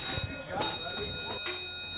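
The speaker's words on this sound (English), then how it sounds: "Touch a Truck had kids climbing in and ringing bells." Bright truck bells rung by kids at a Touch a Truck event, in short separate strikes, three or four rings with lingering shimmer, over a soft background murmur.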